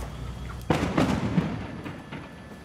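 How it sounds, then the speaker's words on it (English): Explosions from a burning luxury yacht at Marina del Rey, heard from a distance as a sharp blast followed by a few rumbling bursts and pops over a faint background hum. "listen carefully as you could hear clear explosions coming from that vessel."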